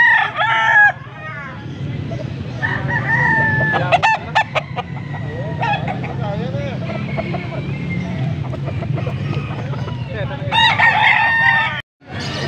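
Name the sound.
rooster crowing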